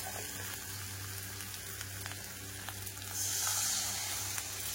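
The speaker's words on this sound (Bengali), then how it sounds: "এবারে কিন্তু একটু হালকা নাড়াচাড়া করে নেব।" Curry stirred and fried in a pan, with a soft continuous sizzle, light scraping strokes and a brighter hiss rising in the last seconds, fairly quiet and close.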